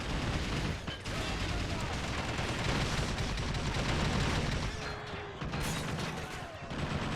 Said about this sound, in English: Oh, got some big explosions back there in the other parts of the city.